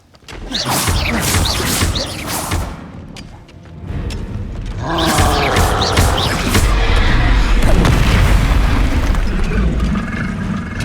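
Spell explosions from the Bombarda charm in Hogwarts Legacy, a string of loud booming bursts and crashes over busy battle noise, with a heavy blast around the middle and rumbling debris that carries on to the end.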